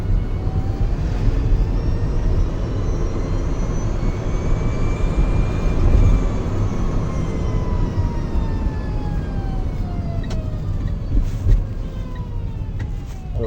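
A Citroën Ami electric car's motor whines, rising and falling, thin tones gliding up then down over a steady rumbling hum, with a few faint clicks near the end.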